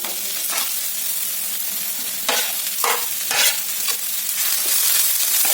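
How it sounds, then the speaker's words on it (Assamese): Chopped banana flower stir-fried with lentils in a pan: continuous close sizzling punctuated by several louder scraping stirs, with no voices. "এনেকৈ অকণ সময় ভাজি লোৱাৰ পাছত এতিয়া মই ইয়াত কলডিলখিনি দি দিম।"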